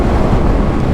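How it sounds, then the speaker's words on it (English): Wind rushes past a rider on a moving Yamaha naked motorcycle, making a loud, continuous low buffeting roar with no talk. "being a naked bike, you do cop the wind. It's a lovely day, but it is a little bit windy."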